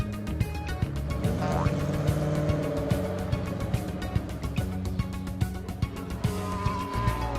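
Cartoon cars race toward the finish line in an educational children's game, their buzzing engine noise running continuously with bouncy music and sound effects.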